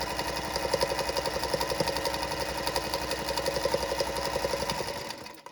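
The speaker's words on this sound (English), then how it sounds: "that's going to go through my machine here. And I'm just going to do a 1/4 inch top stitch on the folded edge." A sewing machine runs a quarter-inch top stitch along the folded edge of fabric for a Christmas book cover, a fast, even mechanical chatter that holds steady and then winds down at the end.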